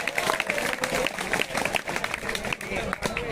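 A crowd claps for trainees who turned a casualty's clothes into a makeshift stretcher (a cloth lift) at a training camp at ITI Barwala, with steady applause under a voice speaking loudly.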